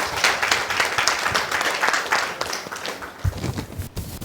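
A church congregation claps in thanks to God during an Exodus sermon, a fairly dense burst of hand claps at moderate level that thins out near the end.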